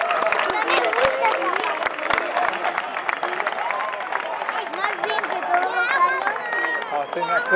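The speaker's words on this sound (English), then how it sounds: "There you go, round of applause." Crowd at the Festa Major in Sant Feliu de Guíxols applauding and cheering after a fireworks display, steady clapping mixed with chatter and whistles, with voices talking throughout.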